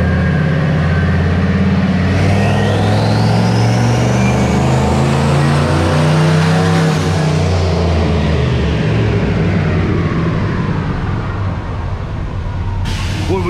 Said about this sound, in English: we got ourselves a turbo truck here, this is cool.